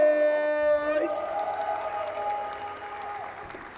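Crowd at a Tekken 7 Nations Cup esports event cheers and applauds loudly and steadily, while an announcer's voice rings out over the noise near the start.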